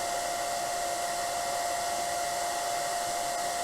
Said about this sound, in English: So I'm going to go ahead and blast this really quick with my blow dryer.